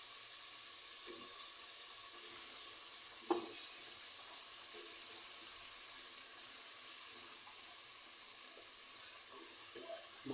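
Spices and beef fry quietly in a pot, a faint steady sizzle with a few soft scrapes and clinks from stirring and one sharper knock of the utensil.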